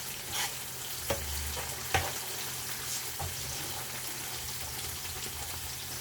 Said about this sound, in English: So the onions is a bit fried, not too fried.